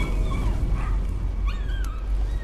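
Dog in the Layers of Fear video game gives a few short whimpering yips and soft barks, moderately near, over a steady low rumbling ambience with no talk.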